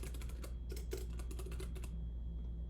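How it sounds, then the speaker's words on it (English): Rapid typing on a computer keyboard while coding a React JavaScript app, a quick irregular burst of close key clicks that stops partway, leaving quiet room noise and a faint steady hum. "Let me make sure I'm typing in the same thing."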